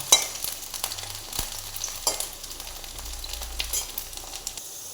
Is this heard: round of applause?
no